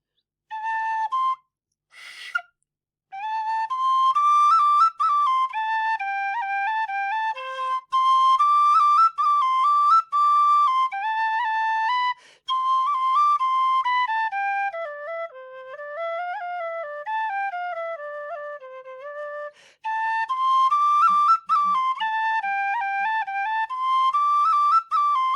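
A Kerry tin whistle in C plays a lively tune alone, bright high notes in quick runs and ornaments, with short pauses between phrases and a push up into the top octave.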